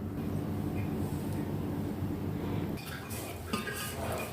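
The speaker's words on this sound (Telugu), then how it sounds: "ఇప్పుడు గ్రైండ్ చేసి చూపిస్తాను." A mixer grinder grinds soaked jowar into dosa batter, a loud, steady motor roar that runs unbroken through the whole stretch, its tone shifting slightly partway through as the load changes.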